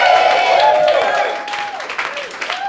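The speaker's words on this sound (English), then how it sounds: "Single people in the crowd, make some noise." Single people in a comedy club crowd cheer and clap, a loud burst of whoops and applause that starts immediately and tapers off over a few seconds.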